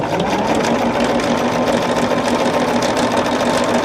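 A sewing machine runs steadily, stitching a seam on a tester bag with an eighth-inch seam allowance. The motor hums loudly and continuously, with no pauses, and no voices are heard.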